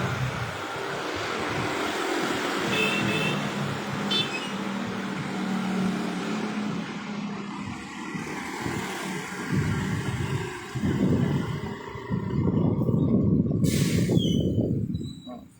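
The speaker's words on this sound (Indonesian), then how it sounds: "suasana di SPBU siang ini" Cars and trucks wait in a queue at a gas station in Parepare, with continuous engine rumble and passing traffic throughout, louder vehicle noise toward the end, and a person talking over it.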